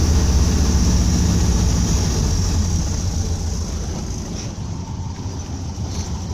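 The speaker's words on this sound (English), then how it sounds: "And it's idling" A 1967 Volkswagen Type 3 Squareback engine, first started after sitting parked for four years, idles with a steady low rumble and hum, loud and close, easing slightly in level toward the end with no one speaking.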